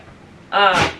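A single loud sneeze bursts out after a quiet moment, close and sharp, with a breathy tail fading at the end.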